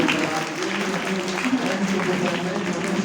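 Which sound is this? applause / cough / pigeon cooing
applause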